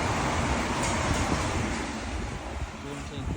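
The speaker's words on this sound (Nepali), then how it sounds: "ट्रेन चाहिँ कुदिरहेछ होइन" A train runs past in London as a steady, loud rumbling roar with a faint rail rattle, sustained throughout the short stretch.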